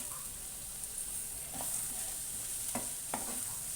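Ginger and garlic fry in a pan with onions for a boondi curry, a quiet steady sizzle with a few soft clinks of a spoon near the end and no speech.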